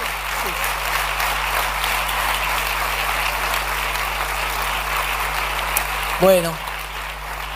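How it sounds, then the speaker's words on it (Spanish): An audience at a church gathering claps steadily for a pastor, a dense broadband patter filling the room throughout, before a voice briefly speaks near the end. "Vamos a darle un fuerte aplauso al pastor Bernardo también."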